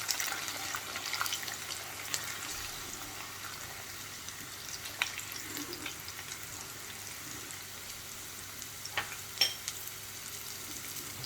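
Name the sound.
garlic frying and being stirred in oil for tomato achar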